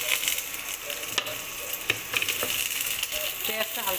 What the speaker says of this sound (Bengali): পেঁয়াজটা হালকা ভাজা হবে